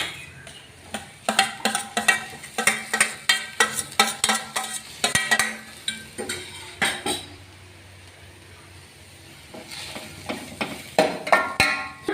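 Onions and tomato sautéing in a pan for fried rice, with a spoon repeatedly scraping and clattering against the metal in a steady rhythm over a soft background sizzle, followed by a quieter stretch and more stirring.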